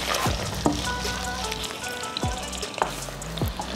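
Chopped onion frying in a pan as the start of a liver and gizzard freekeh casserole, a steady soft sizzle and crackle running throughout with a low background hum and a few faint knocks.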